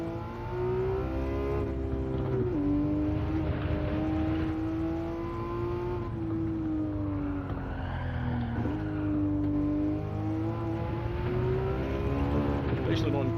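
Race car engine in Gran Turismo 7, a steady loud drone with rising and falling revs through gear changes and brief dips, continuous throughout, with a voice talking over it.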